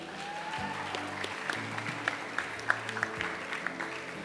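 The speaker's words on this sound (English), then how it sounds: "So a big round of applause for the efforts put in." An audience at a school Model United Nations closing ceremony applauds: steady, soft, distant clapping from a crowd, lasting a few seconds.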